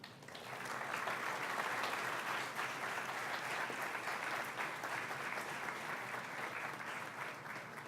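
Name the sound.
audience applause welcoming the speaker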